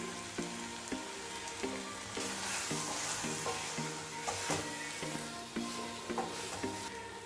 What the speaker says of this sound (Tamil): இப்போ நல்லா ஃப்ரை ஆயிடுச்சு. நம்ம இப்போ பெப்பர் போட்டுடலாம்.